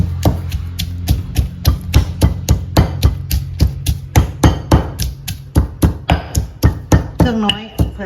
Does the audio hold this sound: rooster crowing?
no